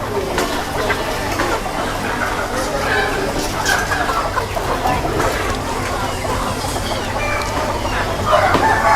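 Live chickens and ducks at a poultry stall in the Luang Namtha morning market, Laos: roosters crow and hens cluck continuously and close by, mixed with market bustle and someone talking.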